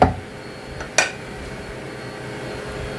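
A metal pressure cooker clanks down onto a kitchen stove while biryani is being cooked: a sharp metallic knock at the start and a second clink about a second later, then quiet background hiss.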